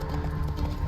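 The horse Roach gallops in the video game The Witcher 3, a brief burst of close, rapid hoofbeats over a dull, steady rumble.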